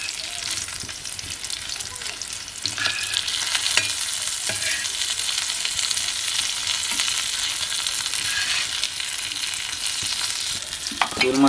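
Mahseer fish frying in a pan of oil, a dense steady sizzle and crackle heard close up, with occasional clinks and scrapes of turning the pieces.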